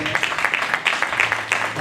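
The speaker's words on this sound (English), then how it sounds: "Let's give him a big hand clap." An audience gives a short burst of hand clapping at a chamber of commerce gathering, with close, irregular claps over brief talk beneath.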